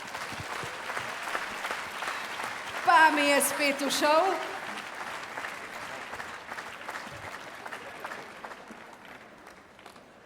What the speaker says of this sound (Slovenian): še en aplavz za Benča